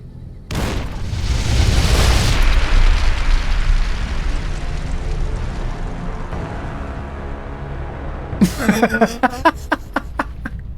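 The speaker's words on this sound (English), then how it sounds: "Cook it, chuck it, hide." A frag grenade blast in Fallout: New Vegas erupts with a loud booming roar that slowly rumbles away, followed by a rapid burst of sharp gunshots near the end.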